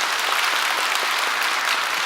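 Steady applause from a church congregation for a choir, dense clapping filling the whole moment without a break, fairly close and even in volume.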